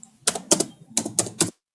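Keys clack on a computer keyboard as a file name is typed into a new HTML file dialog: five short, crisp bursts in two quick groups, fairly close and alone, with no talk.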